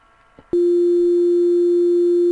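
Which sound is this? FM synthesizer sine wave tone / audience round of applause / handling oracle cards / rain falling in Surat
FM synthesizer sine wave tone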